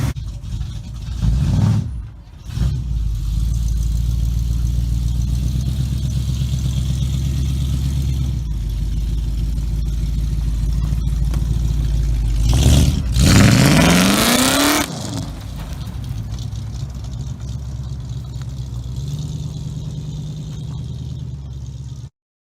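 An old pink car's engine runs loud and close, holding a steady idle, then revving up sharply and settling back, with no talking.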